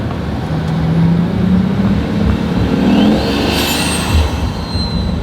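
Hypercar engine, a Pagani Huayra or Koenigsegg Agera RS, accelerating with its turbo spooling up: a loud, close, sustained roar that rises in pitch, with a thin whistle climbing near the end.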